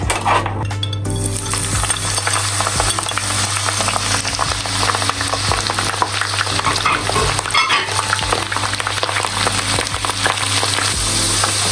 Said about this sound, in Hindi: अब इसी ऑयल में मैं इन मिर्चों को फ्राई कर लूँगी